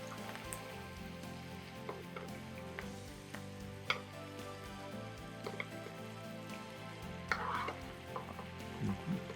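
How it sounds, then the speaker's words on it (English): Butter bubbling and sizzling in a cast iron pan while a steak is basted, a steady close crackle with scattered ticks and pops of spoon and pan throughout. "Now you can see the butter is starting to bubble."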